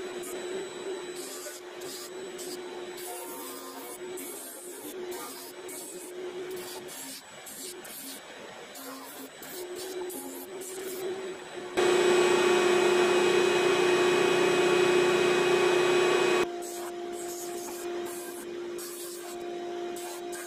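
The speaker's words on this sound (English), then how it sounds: "And off to the disc sander to finish shaping them." A disc sander grinds and shapes parts for giant ant sculptures, its steady broadband whir holding for several seconds at high level amid quieter workshop noise with a constant motor hum.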